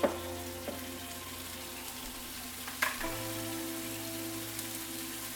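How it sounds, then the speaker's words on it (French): Prosciutto and pancetta frying in butter in a pan, a steady soft sizzle with faint crackles and one or two brief clatters, close and continuous with no talking. "Je remets du beurre. Et je mets mon prosciutto et ma pancetta si vous en avez mis."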